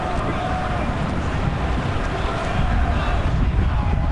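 Blustery wind buffeting the microphone at an outdoor stadium during a Chicago Fire versus Philadelphia Union soccer match, a loud, constant low rumble with gusty surges, mixed with indistinct voices.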